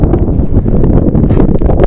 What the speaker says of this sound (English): It's kind of windy, huh?